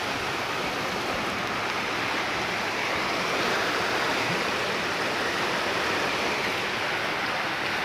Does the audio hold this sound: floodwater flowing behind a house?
yes